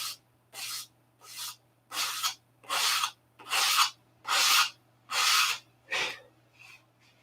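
Sanding by hand on 1/64-inch plywood, about nine short rasping swipes in a steady rhythm, close and clear over a faint low hum.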